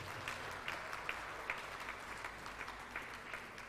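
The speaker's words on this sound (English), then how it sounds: "Can you please give them a round of applause?" An audience at a hairdressing certificate launch at a TVET college gives a round of applause for the hair models, a fairly faint, steady patter of claps with a few sharper accents.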